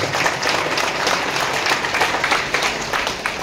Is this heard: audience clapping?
yes